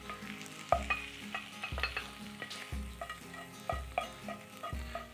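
Porcini mushrooms and garlic fry in a pan, sizzling steadily while a utensil stirs and scrapes in repeated strokes about once a second, close and fairly quiet.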